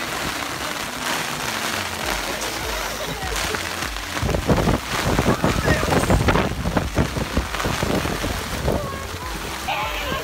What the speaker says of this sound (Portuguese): E é isso, estamos aqui na chuva.